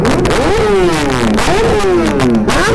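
Kawasaki ZX10R superbike engine revving loudly and up close, with three rising-and-falling throttle blips in quick succession over a steady idle rumble.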